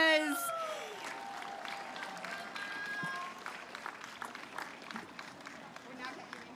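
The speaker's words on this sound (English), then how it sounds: "One more round of applause for your male marathon winners." A crowd at the Gold Coast Marathon gives sustained applause and cheering for the male winners. An amplified announcer's voice trails off at the start, then the clapping carries on steadily and thins toward the end.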